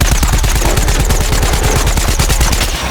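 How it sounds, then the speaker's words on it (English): Rapid, steady automatic fire from the Foot Soldier's rifle in a video game, loud and close, with evenly spaced shots running continuously for about three seconds. "When it comes to its primary, it is basically just a rifle."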